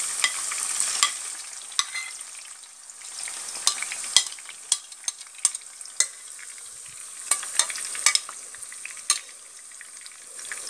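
Crushed shallots and tomato stirred in a hot frying pan for a goat head roast masala, a steady bright sizzle broken by repeated sharp scraping clicks of a spoon against the pan, with no talking.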